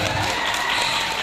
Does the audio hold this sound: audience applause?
yes